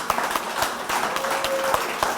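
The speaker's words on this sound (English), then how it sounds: "So give yourselves a big round of applause." An audience at a school recognition ceremony for a student group at a mall claps in a brief, scattered burst, the individual claps sharp and nearby.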